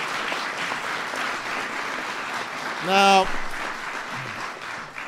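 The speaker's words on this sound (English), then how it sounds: "Please, everybody, give them a big round of applause." Audience applause fills a White House event welcoming the NBA Los Angeles Lakers, a steady wash of clapping throughout with a voice briefly speaking over it midway.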